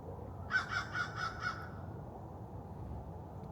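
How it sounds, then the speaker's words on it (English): A crow caws several times in a quick rhythmic series, fairly close and clear, over a low steady outdoor rumble on an early morning walk. "Perfect timing, bird."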